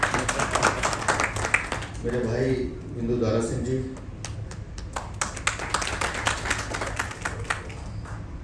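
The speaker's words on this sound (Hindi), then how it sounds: "मुझे लगता है बहुत उनके ताली बजनी चाहिए।" An audience at a press conference for a Ramayana stage play claps in scattered bursts, crisp hand claps breaking out around someone speaking into a microphone.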